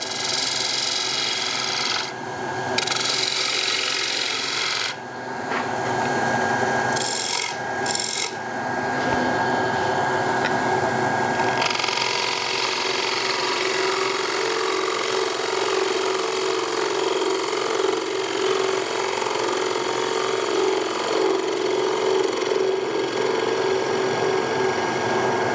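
Sandpaper rubs a spinning wooden potpourri pot on a lathe, a continuous close rasping hiss over the motor's hum, with short pauses early on before steady sanding.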